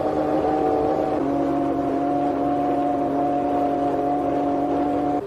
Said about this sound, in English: Waiting and ready are Mansell's mechanics, warming up the engine, putting the electric gearbox through its paces.